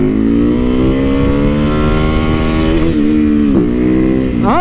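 A motorcycle engine revving hard during wheelies on the road, a loud steady drone that rises in pitch and climbs again in quick throttle blips near the end.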